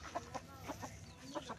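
Chicken clucking in a rural yard, a few short clucks spaced irregularly over steady background noise, moderately close and fairly faint, with no talking.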